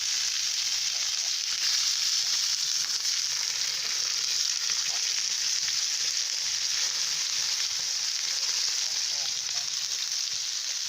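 Continuous bright sizzling of burgers frying in a frying pan at a woodland camp, steady and close, with no talking.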